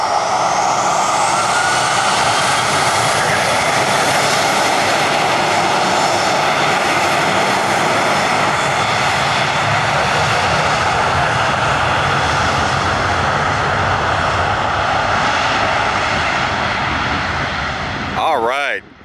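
Southwest Boeing 737 jet engines roar steadily through a departure, a loud sustained rumble with a rising whine that holds for nearly the whole stretch before cutting off abruptly at the end.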